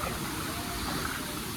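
Kapas Biru waterfall in Lumajang roars as a steady, dense rush of falling water, loud and unbroken throughout with no voices.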